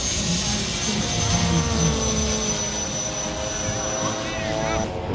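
Giant RC model warbird airplane flying at a model airplane event, its engine droning steadily overhead over several seconds with background crowd noise.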